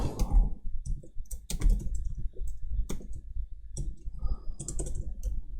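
Rapid clicking of a computer keyboard as HTML code is typed, keystrokes coming in uneven bursts with short pauses, close and fairly quiet over a low room hum.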